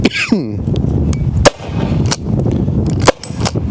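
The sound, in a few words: Byrna less-lethal launcher firing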